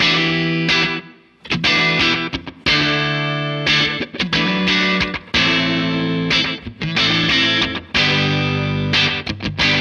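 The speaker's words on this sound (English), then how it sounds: "this is the other one, has more like a reverby sound" Distorted electric guitar chords ring out in bursts, each trailed by smeared, reverb-like delay pedal repeats that wash into the next strum; no voices.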